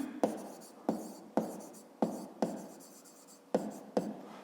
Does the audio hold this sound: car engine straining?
no